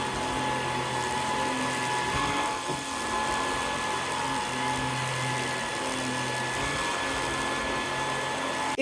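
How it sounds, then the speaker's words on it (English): A Eureka Stylus Elite cordless vacuum runs at max suction on carpet, a loud, steady high-pitched motor whine with a constant airy roar that holds without a break. "This is how loud the cordless vacuum cleaner is. So we always test this on max suction settings, vacuuming carpets."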